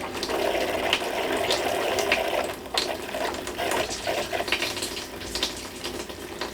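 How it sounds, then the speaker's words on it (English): Water runs and hisses steadily into a water heater tank, a continuous rushing fill with faint clicks and knocks in the plumbing. "As soon as the tank on the water heater fills, then the system will be pressurized."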